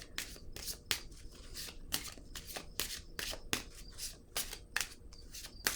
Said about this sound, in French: je vais piger une carte dans cette zone là